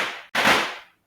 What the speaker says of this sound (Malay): petang-petang dia orang main bunga api